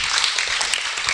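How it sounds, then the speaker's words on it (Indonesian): Brief applause from an audience at an Islamic lecture on akhlak, a short, steady patter of clapping at moderate loudness with no talk over it. "Tepuk tangan."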